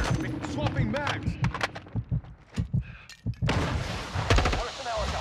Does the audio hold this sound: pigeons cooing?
no